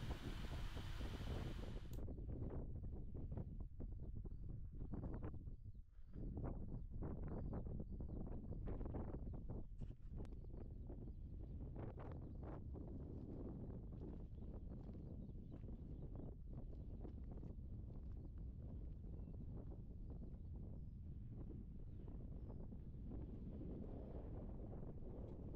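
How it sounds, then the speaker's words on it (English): Strong wind gusts across an exposed hillside path beside a stone wall, roaring and buffeting loudly and continuously with no talk. "just to get out of the wind."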